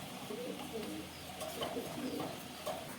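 Homebred pigeons, mostly ringed, coo softly in repeated low, throaty calls from several birds at a loft. The sound is faint, with a hum of background noise.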